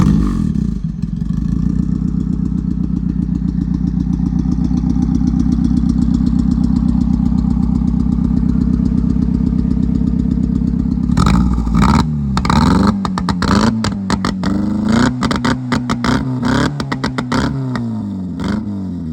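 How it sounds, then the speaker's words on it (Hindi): A lowered Honda EG car, not running a straight pipe, idles with a loud, steady burble for about eleven seconds, then is blipped through a series of sharp, choppy revs that rise and fall, recorded close up without speech. "बाकी आपको गाड़ी का स्टार्ट करके साउंड चेक करवाते हैं।"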